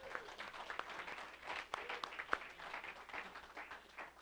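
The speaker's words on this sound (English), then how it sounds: "So a huge round of applause for him." Audience applause breaks out at a morning community pitch event, a steady wash of many hands clapping at moderate distance, continuous through the whole stretch with scattered sharper claps standing out.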